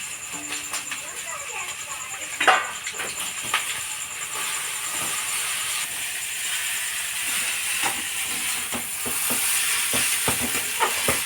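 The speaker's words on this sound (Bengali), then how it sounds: "এটা ভালো করে নেড়ে চেড়ে নিয়ে তারপর দিয়ে দিচ্ছি এই যে নুডলসটা" Noodles being stirred with sauce in a pan, producing a steady sizzling and frying hiss with intermittent scraping and clinking of the utensil against the pan, fairly close.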